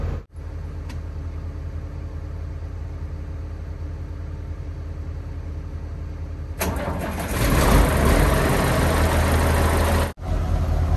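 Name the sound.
car crusher engine starting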